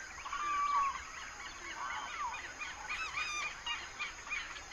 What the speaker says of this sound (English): The spectacular concert that the birds, amphibians, and insects create together in the regions with the greatest biodiversity on the planet is amazing.